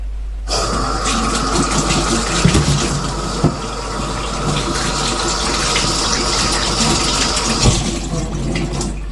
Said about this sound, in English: Washing tomatoes.